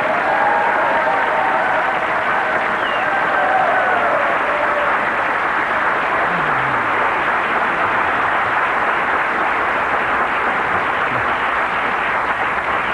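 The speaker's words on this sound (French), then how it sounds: "il y a beaucoup de monde ici pour t'applaudir" Studio audience at a French hidden-camera television show applauding steadily, a dense, continuous wash of clapping that holds at the same level throughout, with no voices rising above it.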